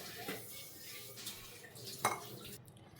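Capsicum pakoda batter is being mixed with water in a bowl, with soft clinks and scrapes of a utensil against the dish at scattered moments amid a quiet kitchen background.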